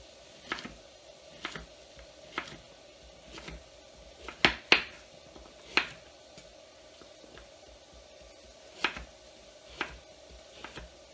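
Knife chopping vegetables for lemon lentil soup: about a dozen distinct knife strikes on a board at an irregular, unhurried pace, a couple louder, over a faint steady background hum.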